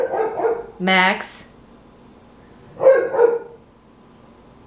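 A dog barks nearby in a home, two short bursts of barking about two seconds apart, with a person's voice calling out briefly between them.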